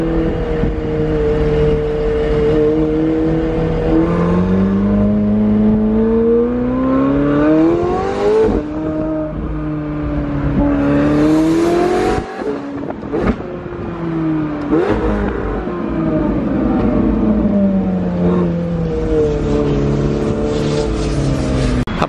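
A luxury sports car engine revs hard through downshifts, with loud rising and falling whines and sharp blips repeating over about twenty seconds, heard close with no voices.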